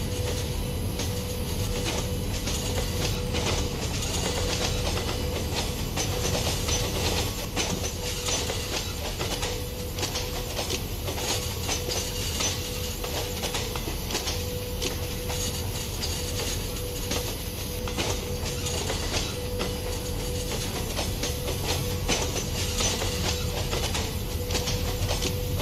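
The Deccan Queen passenger train pulls out of Pune station in a long, continuous rolling rumble with faint rail clatter and a hissing wash, steady and fairly loud with no talking.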